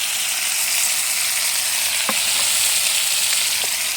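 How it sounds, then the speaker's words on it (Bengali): Live golda prawns from the Subarnarekha river fry in a pan with a steady, loud sizzle and bubbling hiss that runs unbroken, broken by a few faint clicks of stirring. "এখন চিংড়ি মাছগুলো ভাজা হয়ে গেছে"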